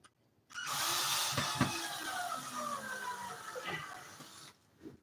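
A power drill whirs up close, running steadily for about four seconds while backing a screw out of a ceiling, its motor pitch shifting slightly as it works.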